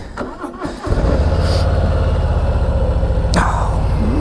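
A Harley-Davidson Softail Slim motorcycle fires up after a brief crank, then settles into a loud, steady, rumbling idle close by.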